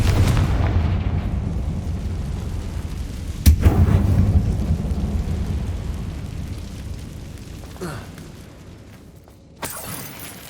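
A fiery Confringo spell blast from the Hogwarts Legacy game bursts with a sharp crack around the midpoint, trailing a long booming rumble that fades away, with a smaller impact near the end.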